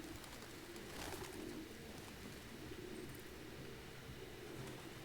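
Pigeons coo softly in the video game Detroit: Become Human, low rolling calls repeating over a constant ambient hiss at a quiet, distant level.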